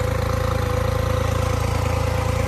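A tractor hauling a single-axle trolley loaded with about 50,000 kg of sugarcane gives a close, steady, low engine drone with a regular throbbing pulse and no change in pace.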